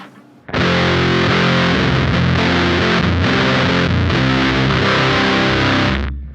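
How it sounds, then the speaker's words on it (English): Dense, scooped fuzz in the style of a Big Muff from the fuzz side of a Minotaur Sonic Terrors pedal, one loud sustained guitar chord ringing about six seconds with no talking. "So this fuzz side is based around like the sound of a big muff, so very fuzzy, very scoop sounding."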